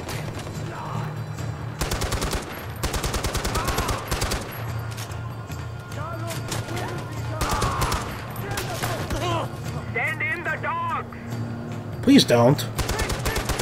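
Rapid bursts of enemy gunfire in Far Cry 4's Valley of the Yetis, volleys of automatic shots repeating over the whole stretch, loud and close, with a player's voice talking over it.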